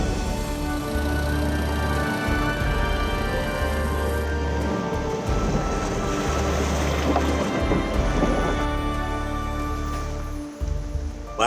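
Boat under way on a river in Bolivia, its outboard motor a continuous, fairly loud hum with a few engine pitch shifts and dips, water and wind noise underneath, no speech.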